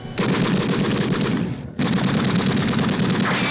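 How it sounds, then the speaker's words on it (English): Sustained machine gun fire from the film Dr. No, a dense rapid burst that runs loud for about a second and a half, breaks off briefly, then resumes just as steady and close. "That was a machine gun, not a dragon."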